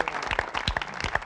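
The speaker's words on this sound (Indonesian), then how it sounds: "sekali lagi tepuk tangan buat kedua peserta" A studio audience claps for two contestants after a third round of a game show, giving a brief burst of crisp, close applause with distinct individual claps.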